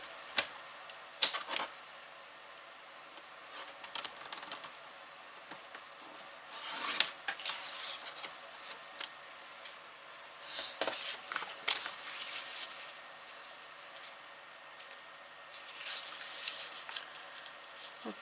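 Paper being cut by hand for the back of a mini pop-up in a crafted folio, quiet sporadic snips and rustling strokes in bursts separated by near silence, close and without talk.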